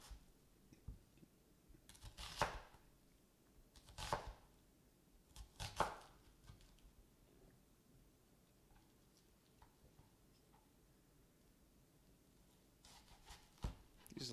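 Knife chopping garlic on a cutting board in a home kitchen: a few loud, sharp clusters of chops spread apart with quieter scraping and handling between them, close by.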